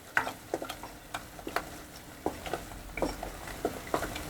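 Garlic, ginger and chili paste stirred in a pan with a little oil, giving soft irregular scraping ticks and light sizzling taps, close and fairly quiet, with no talking.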